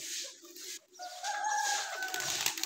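Soft bird calls close by, then a sustained tonal call over a flutter of wings and rustling.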